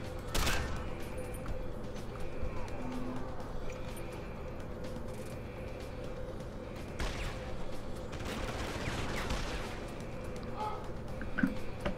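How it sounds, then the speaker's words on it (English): Enemy gunfire in Deus Ex: Human Revolution, a few sharp shots, one loud near crack at the start and a few later, over a steady hum, with someone talking at times. "There is an invisible asshole in this room. He is shooting at me."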